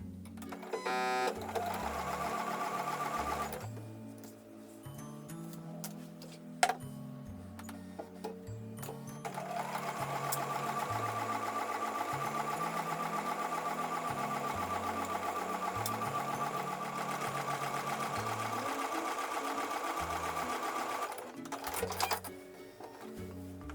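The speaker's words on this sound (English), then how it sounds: "So I'm going to take this over to the sewing machine and sew with a 1/4 inch seam." A domestic sewing machine stitches a quarter-inch seam through quilting fabric for a card trick block, its motor whirring in long runs with a fast rhythmic needle chatter, pausing briefly between passes at close range.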